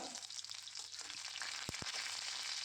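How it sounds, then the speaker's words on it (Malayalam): Chopped garlic sizzling in hot oil after mustard seeds have popped, a steady close frying hiss with two sharp pops near the middle. "കടുക് പൊട്ടിയതിന് ശേഷം ഞാനിവിടെ വെളുത്തുള്ളി അരിഞ്ഞത് ചേർത്ത് കൊടുക്കുന്നുണ്ട്."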